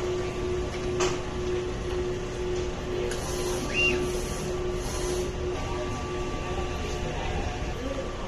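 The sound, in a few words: printer running a nozzle check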